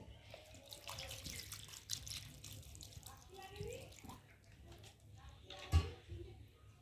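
Hands rinsed with a little water while mixing masoor dal bati chochchori in a home kitchen, soft splashing and trickling with a sharper splash near the end, alongside a speaking voice.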